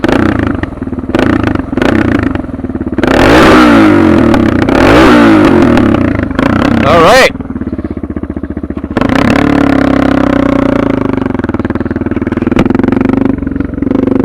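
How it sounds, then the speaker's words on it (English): A DR650 motorcycle fitted with a jet kit idles and revs up sharply several times without stumbling, loud and close, with a brief spoken phrase partway through. "You can hear, I'll rev it."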